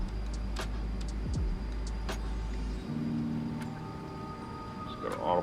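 Steady low roar of C-17 Globemaster III jet engines at climb throttle in the X-Plane 11 flight simulator, a heavy drone that shifts and thins partway through, with faint clicks on top.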